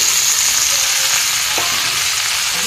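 Tomatoes fry with browned onions in a pan, making a loud, continuous close-up sizzle with a brief clink of stirring partway through.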